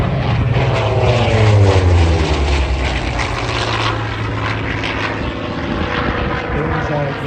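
A Hawker Sea Fury propeller fighter with a Bristol Centaurus engine flies at the Central Coast Airshow in Warnervale, its loud droning engine roar steady and close throughout, swelling slightly early on, with voices faint beneath.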